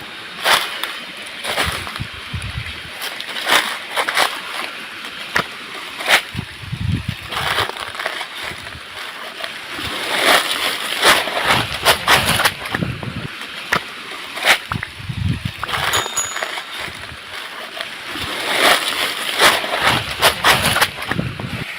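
The multi-tiered Khoiyachara waterfall pours in a steady, broadband roar of falling water, with gusty surges and rumbling bumps rising and falling throughout.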